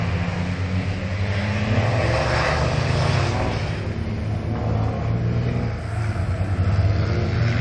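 Racing trucks in a stick shift class truck race arrive with a loud, sustained roar of heavy engines, revving and droning close by throughout with no talk.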